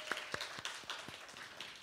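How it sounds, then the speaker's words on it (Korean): A church congregation at a service claps for the young keyboard and bass players, giving faint, scattered claps at an uneven pace, soft and distant. "앞으로도 열심히 하라고 오늘 또 수고했다고 한번 박수와 격려를 할까요?"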